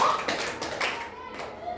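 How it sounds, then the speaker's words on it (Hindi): Children in a classroom clapping in short irregular bursts, fairly faint and mixed with a voice and room noise. "इसके लिए ताली बजाई जाए। ये क्लैपिंग जोर से।"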